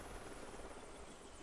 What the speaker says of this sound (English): That helicopter has no guns.